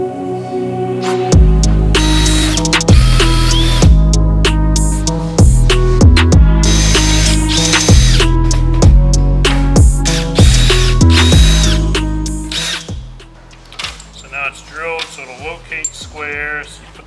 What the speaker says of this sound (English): then you can drill out these locating holes, which is kind of hard on the mesh